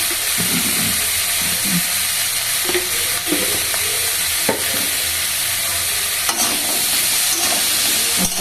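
Dried red chilli frying in hot oil on a gas stove while cooking a thali with potato, a steady close sizzle with intermittent stirring clicks and no talk.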